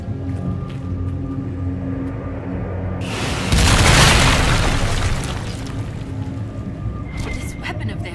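A weapon blasts through a barrier in Dragon Age Inquisition, a sudden loud boom with a broad roaring burst that swells and fades over a few seconds above a steady game ambience.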